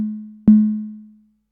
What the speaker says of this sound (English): I'm going to use the Volca drum here to create a unique kick sound.